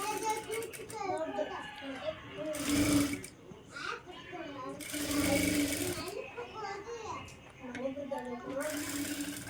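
A sewing machine stitches the neck of a golden blouse front in a few short whirring bursts, close and moderately loud, with a person talking throughout in between and over the runs.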